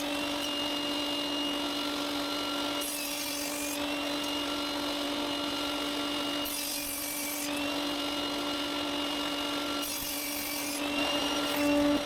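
A table saw cuts wood pieces to width for a kitchen paper holder, the steady motor hum rising into three separate cuts that each last a second or two at close range.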